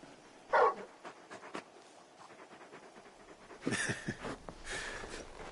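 A big dog in the video game Final Fantasy XVI pants in quick, breathy bursts and lets out soft whimpers. The sounds come in short clusters near the start and again toward the end, close and moderately loud.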